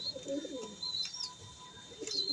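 A pigeon calling to its mate during breeding, giving soft low cooing phrases close by alongside faint chirps and a steady background hum.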